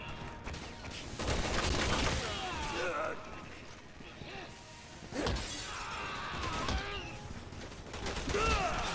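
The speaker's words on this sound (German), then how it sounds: "Ich werde beschossen." Gunfire and shattering impacts from the video game Resident Evil 6, bursts of shots and crashes recurring through the clip with talk-like game voices mixed in, fairly loud and busy.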